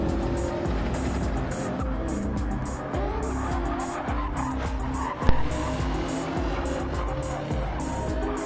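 Race cars in a racing video game roar past with very late braking, tires squealing and skidding over a steady engine drone, with a sharp impact-like bump partway through.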